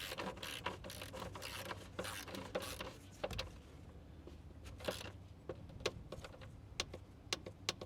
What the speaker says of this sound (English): Okay, so I got my Torq wrench here